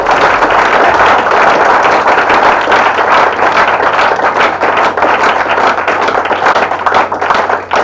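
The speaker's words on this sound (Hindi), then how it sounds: "कविता समाप्त हो गई, तालियां बजा दीजिए।" Audience at a Hindi comic poetry gathering (hasya kavi sammelan) in Pune applauding after a poem, a loud, dense, continuous wash of clapping lasting throughout with no talk.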